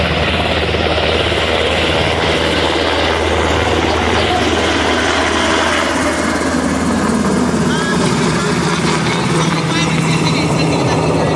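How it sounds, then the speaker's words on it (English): A helicopter flies close overhead, its loud, steady rotor and engine roar filling the whole stretch with a continuous thrum, while people talk faintly beneath it. "Helicopter that close."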